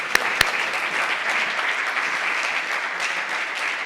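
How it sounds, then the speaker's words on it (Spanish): A conference audience at a women's football congress applauds in a sustained, dense burst of clapping that holds steady and fairly loud, with two sharp claps standing out near the start. "Fuerte aplauso"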